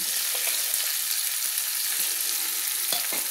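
A paste of mustard, ginger, garlic and green chili fries in oil for a chang fish curry, giving a dense, even hiss with a few faint stirring clicks and no speech.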